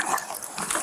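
A police dog barks and yips in a short, agitated burst, loud and close, with no talk over it.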